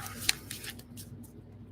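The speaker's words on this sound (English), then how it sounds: "Shuffle some more cards here" Tarot cards shuffled by hand during a live reading: a few quick, crisp riffling and snapping bursts up close, then softer rustles fading out against a quiet room.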